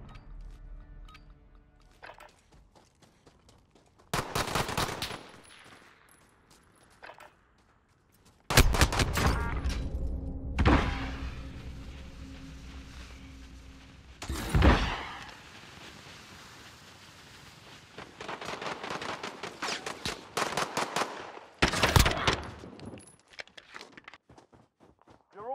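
Bursts of gunfire in the video game Call of Duty Modern Warfare 2019, loud volleys and machine-gun rattles spread across the clip with footsteps and quieter gaps between them, no talking.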